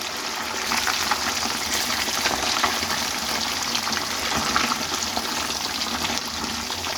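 Roughly 600 grams of rohu fish pieces lightly frying in a pan give off a steady, moderately loud broadband sizzle with no talk over it.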